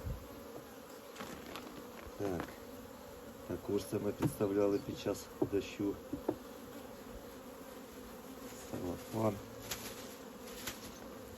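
Honeybees swarm at an open hive while frames of old honeycomb are handled, a steady close buzzing with louder bursts as bees fly past, under intermittent talk from a beekeeper.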